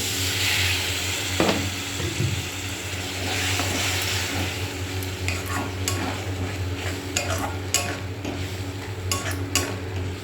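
Masala spices sautéed and stirred in a pan with meat masala and a little added water, a steady frying sizzle under scraping and clinks of a spoon against the pan, continuous and close.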